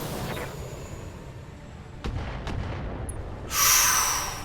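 Missiles fired at a ship in a space combat video game, several sharp booming launches spaced across the moment, followed by a louder, sustained blast near the end.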